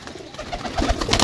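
Pigeons kept at a loft for sale in Jhelum, Pakistan, giving a brief low cooing burble up close over faint background noise.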